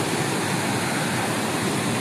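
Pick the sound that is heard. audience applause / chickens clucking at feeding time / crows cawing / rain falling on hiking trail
rain falling on hiking trail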